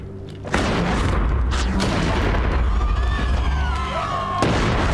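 An explosion from the explosive perk in the video game Sundered booms loudly and sustains as a dense, rumbling blast with crackling debris, over continuous game noise.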